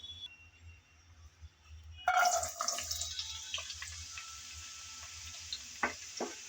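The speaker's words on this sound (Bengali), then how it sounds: "সেই গরম তেলে শুরুতে আমি গাজর আর আলু ভেজে নেব।" Carrots and potatoes drop into hot oil, setting off a sudden loud hiss and crackle that then settles into a steady sizzle with occasional sharp pops and stirring clinks.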